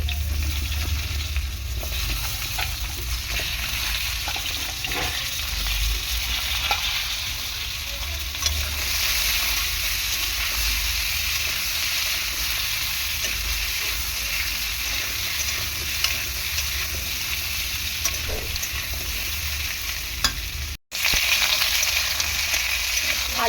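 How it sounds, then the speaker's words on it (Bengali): Potatoes fry in a wok of oil previously used for frying fish, giving a dense, steady sizzle with occasional stirring scrapes, close and continuous with no talk. "আমি আলুগুলো ভেজে নেওয়ার জন্য এই যে তেল দিয়ে আলুগুলো দিয়ে দিলাম।"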